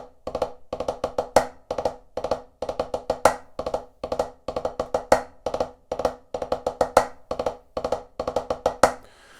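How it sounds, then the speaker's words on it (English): Triple ratamacue on a snare drum, three quick ruffs before each triplet figure and an accented closing stroke, cycled evenly and played close and bright with no speech over it. "the third one is called the triple Ratamacue"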